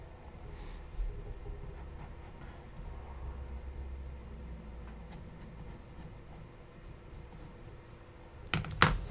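A pencil or pen scratches quietly across paper while a quick sketch is made, with faint, intermittent strokes under a low background hum, ending with a couple of louder taps or clicks.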